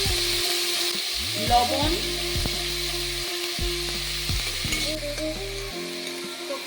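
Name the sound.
frying and stirring green tomatoes in pan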